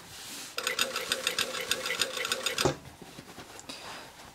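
Sewing machine stitching the front seam of a pair of jeans, a fast rhythmic run of stitches for about two seconds, then stopping with a few faint clicks.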